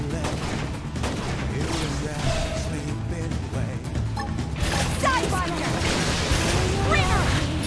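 Rifle gunfire in the game Xenoblade Chronicles X, rapid repeated shots and crashing impacts over a steady rumbling game soundtrack, with sharp chirping effects in the later half.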